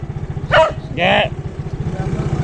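A dog gives two short barks close by over a steady, pulsing idle of an engine running nearby.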